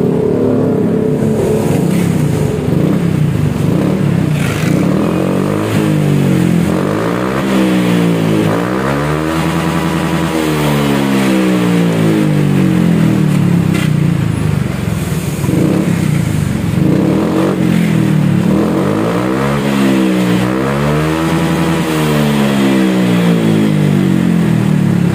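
A Honda Vario 125 scooter engine revs up and down repeatedly, loud and close, each rise and fall in pitch forming a cyclical pattern that continues throughout without speech.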